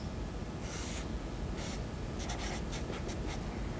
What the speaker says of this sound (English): Now we're going to transfer the table to another piece of paper and sketch a graph.